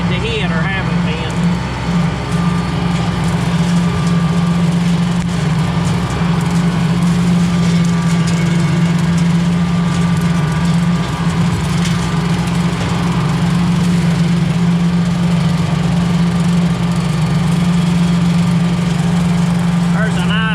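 King Kutter 6 ft rotary mower running over steep, rough, uneven ground behind a tractor, a loud continuous engine drone with a steady low hum, close and unbroken throughout.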